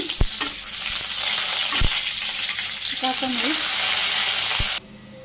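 Onions fry with cumin in hot oil for a Bangladeshi spinach bhaji, a close, steady crackling sizzle with a few sharp knocks of a utensil, cutting off abruptly near the end.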